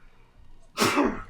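One sharp sneeze bursts out close and loud after a moment of quiet, a single short explosive blast.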